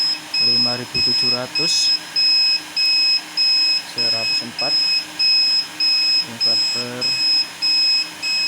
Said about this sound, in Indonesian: ini overload, alarm menunjukkan overload ya